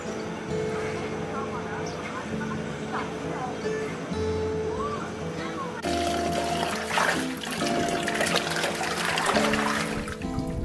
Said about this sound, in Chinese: 咱们先把这个韭菜苔子给洗干净。